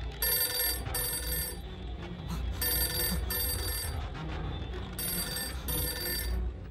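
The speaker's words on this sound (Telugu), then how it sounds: "మళ్ళీ ఫోన్ రింగ్ అవుతుంది." A telephone rings close by in repeated bursts of bright electronic trilling, two rings to each group, with short pauses between the groups over a quiet background.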